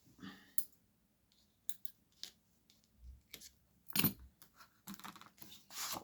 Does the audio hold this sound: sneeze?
no